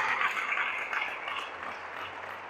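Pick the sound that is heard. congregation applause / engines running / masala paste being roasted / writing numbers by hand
congregation applause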